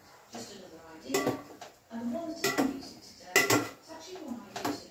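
Used pots, pans and cutlery are cleared away in a home kitchen where chicken sinigang is cooking, with several loud metallic clanks and clinks in irregular bursts.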